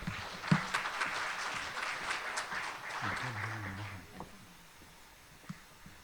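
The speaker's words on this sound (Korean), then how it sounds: "큰 박수로 환영해 주시기 바랍니다" Audience applause at a Korean financial consumer protection briefing, welcoming the secretary general of a consumer federation; broad clapping fills the first few seconds, then thins and fades as a voice begins.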